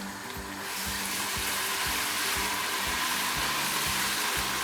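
Garlic ginger paste fries in a pan for beef nihari, giving a steady, loud sizzle with crackling spatter and regular low scraping thumps of stirring throughout.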